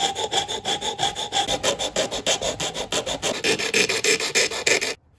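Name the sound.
sanding wooden keel of model boat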